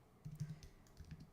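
Typing on a computer keyboard while entering words into a design program, a short burst of soft, quick key taps close to the microphone.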